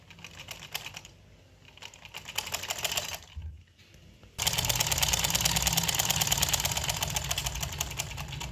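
A sewing machine stitches the zipper fly of a pair of pants with a fast, rattling whir that pauses briefly, then runs louder and steady for the last few seconds.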